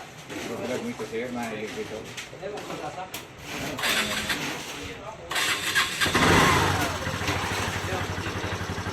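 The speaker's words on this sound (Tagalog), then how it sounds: "I-rev mo daw, Agos." A Piaggio three-wheeled tricycle engine cranks and then revs up loudly nearby after a fuel pump repair, with people talking over the running motor.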